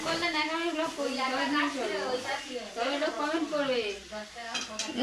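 Meat cooking in a pan gives a steady sizzling, stirring hiss underneath a person talking almost continuously, with faint utensil clinks mixed in.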